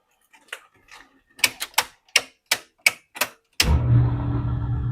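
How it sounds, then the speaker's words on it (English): A run of sharp mechanical clicks as workshop switches are flipped, then an air compressor kicks on abruptly and settles into a loud, steady motor hum and drone. "We even turned on the compressor."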